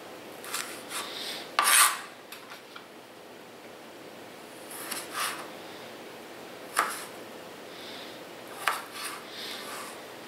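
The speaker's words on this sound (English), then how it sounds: "it just dawned on me I was cutting the tomatoes skin side up" A kitchen knife quarters fresh tomatoes on a cutting board, with a handful of quiet, separate slicing and scraping strokes spaced out over several seconds and no voices.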